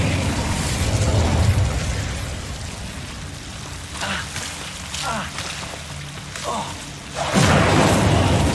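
Incendio fire spell blasts in Hogwarts Legacy, a few whooshing bursts spread over a steady rainy, crackling background, with a louder roaring burst near the end.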